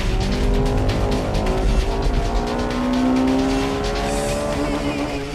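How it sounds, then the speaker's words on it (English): A Honda Integra Type R racing on a tight circuit passes close by, its engine revving hard with rising and falling pitch as it works through gears, with some tire squeal and other race cars mixed in. "Here comes the Integra R."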